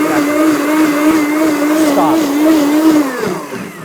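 A Blendtec blender with a 3-peak-horsepower motor blends a smoothie, its steady loud whirring roar holding an even pitch before winding down at the end.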